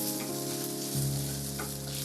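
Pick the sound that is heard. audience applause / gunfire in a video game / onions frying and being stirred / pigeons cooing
onions frying and being stirred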